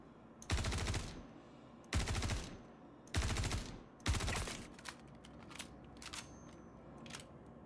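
Bursts of gunfire from Star Citizen, fired through a small peek hole at heavy enemies: four loud, sustained volleys about a second long each, then scattered fainter shots trailing off, with no talking.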